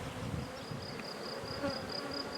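Carpathian honey bees buzzing steadily around the hives of an apiary during the honey flow, a continuous faint drone with a few louder passes near the microphone.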